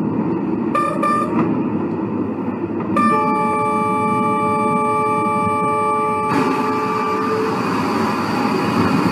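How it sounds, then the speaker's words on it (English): A train horn sounds at night as the train nears a road crossing with a truck on it: two short blasts, then a long, loud sustained horn over steady rumbling rail noise. "As the train was arriving closer to the intersection, he started to honk"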